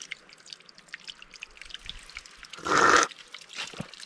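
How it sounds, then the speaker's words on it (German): Fresh spring water trickles and splashes from a mossy mountain source beside waterfalls on Madeira, with a louder pouring burst near the middle over faint background noise. "Frisch aus der Bergquelle vorne."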